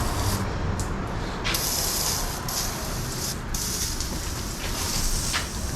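Cleaner sprayed onto a street motorcycle during maintenance: a dense, continuous close hiss of spray with brief bursts and shifts, steady and loud throughout, no talking.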